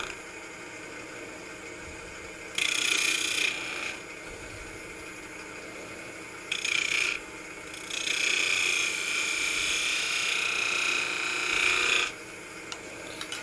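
A wood lathe turns a napkin ring while a 1/4 inch gouge cuts it. Steady motor hum runs throughout, broken by three loud hissing cutting passes, one of them long. No one talks.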